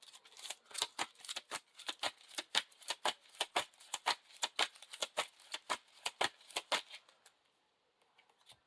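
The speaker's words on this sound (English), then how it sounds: "discard an enemy in the staging area and shuffle it back into the encounter deck." A deck of Lord of the Rings LCG game cards is shuffled in a fast, crisp run of close riffling slaps for about seven seconds, then falls quiet apart from a couple of faint taps.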